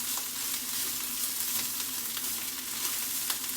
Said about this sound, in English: I'm going to add those eggs, and they'll cook in 30 seconds